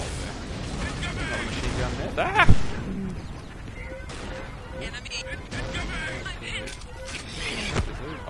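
Mortar and gunfire in Unreal Tournament on a capture-the-flag custom map, a sharp thud of a launch or impact near the middle over a steady rumble of battle, with a commentator talking over it.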